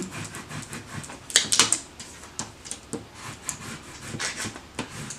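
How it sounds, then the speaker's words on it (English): Scraping a Cricut Joy cut project with a tool, irregular rubbing and scratching strokes close by, with sharper rasping bursts scattered through a few seconds and no talking. "I'm going to turn it over and do some scraping."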